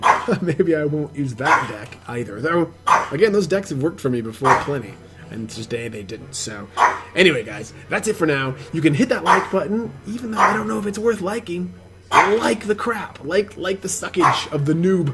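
A pet dog barks excitedly at a dog on TV, with scattered barks and yips mixed under someone talking continuously nearby.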